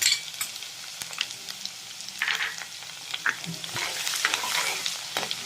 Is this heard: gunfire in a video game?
no